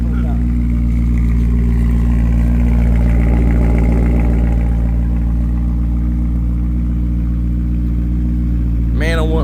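Vortech-supercharged BMW M3 engine holding a loud, steady idle close by, a deep even rumble that persists throughout, with people talking over it.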